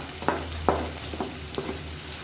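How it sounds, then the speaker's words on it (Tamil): Chopped onion and garlic sauté in a hot pan, a steady close sizzle broken by a few sharp scraping stirs of a spatula, with no talk. "இதையும் சேர்த்து நல்லா வதக்கி விட்டுக்கலாம்."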